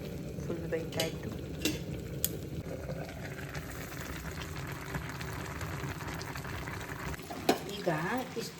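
Food in a pot is stirred while it cooks with a little water, giving a steady soft scraping and bubbling with occasional utensil knocks against the pot, close by.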